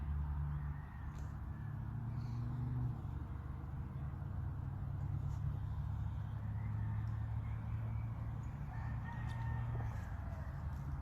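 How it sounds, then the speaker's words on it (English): Roosters crow faintly in the distance outdoors, several drawn-out calls scattered across a steady low background hum, with no talking. "Listening to the roosters crow."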